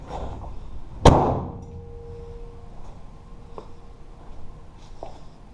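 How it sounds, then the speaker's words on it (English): The hood of a Toyota AE86 is lowered and shuts with a single sharp metallic clang that rings briefly, followed by a few faint light taps in a quiet space. "I think I'm ready to lower it. Lower the hood, that is."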